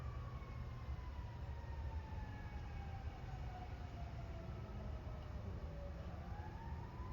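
Emergency vehicle sirens wail in the distance, rising and falling tones gliding steadily over a constant low rumble of background noise, with no talking.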